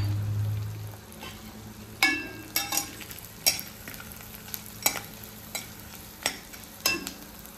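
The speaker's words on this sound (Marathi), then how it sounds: "डिंक तळून घेणार आहोत." Edible gum fries in a few spoons of ghee in a kadhai. A soft sizzle runs under a series of sharp spoon scrapes and knocks against the pan, coming in an irregular rhythm.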